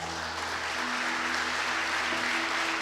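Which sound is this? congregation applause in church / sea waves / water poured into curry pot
congregation applause in church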